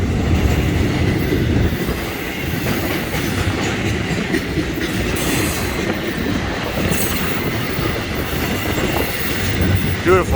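A Florida East Coast Railway double-header freight train passes at South Daytona, loud and near, with a continuous rumble, rhythmic clickety-clack of wheels over rail joints and occasional wheel squeal throughout.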